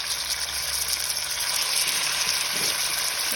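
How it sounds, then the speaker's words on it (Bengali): Chicken pieces frying in a pan of hot oil with garlic that has already browned, giving a steady, close hiss of sizzling throughout with no talk over it. "এবার চিকেনটা দিয়ে দিলাম।"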